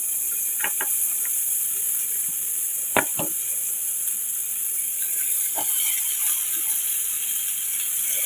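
Fish sizzling in hot oil in a home kitchen pan, a steady bright hiss throughout with a few sharp utensil clicks and scrapes near the start, no talking.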